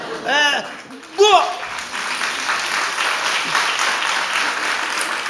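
A live audience on a Turkish comedy show bursts into applause right after a couple of short spoken phrases, and the dense crowd clapping then carries on evenly to the end.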